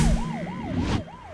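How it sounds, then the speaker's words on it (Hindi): Ambulance siren on a city street, a loud, close wailing tone rising and falling in a regular rhythm over traffic rumble, with no one talking. "ये तो एम्बुलेंस है।"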